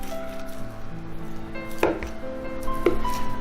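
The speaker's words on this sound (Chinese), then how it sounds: "再来切一点午餐肉" A knife chopping luncheon meat on a board in a home kitchen, with two distinct sharp thuds about a second apart over a steady kitchen hum and faint background tones.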